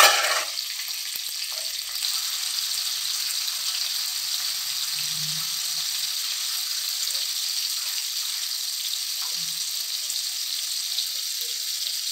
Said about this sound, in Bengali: এমনি আর আলুটা ভেজে নিচ্ছি।